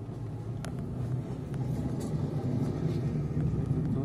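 Steady low engine rumble and road noise from inside a car on a driving lesson in Khabarovsk, holding level for several seconds as it pulls away, with no talking.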